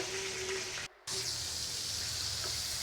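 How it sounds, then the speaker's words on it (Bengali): Potatoes frying in a pan give a steady, moderately loud hiss and crackle that drops out briefly for a moment, with no voices. "এদিক দিয়ে আমি আলু ভেজে নিচ্ছি"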